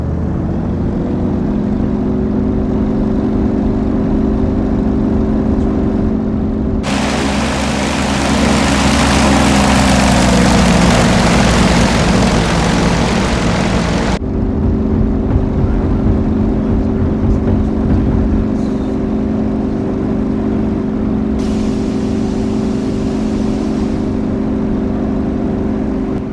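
Yak-52 propeller plane engine in the DCS flight simulator, a steady droning hum that swells into a louder, rougher roar for several seconds mid-clip before settling back to the even drone, no voices.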